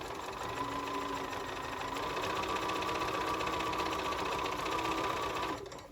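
A sewing machine runs continuously while stitching a quilt block, a close, steady mechanical whir that stops near the end.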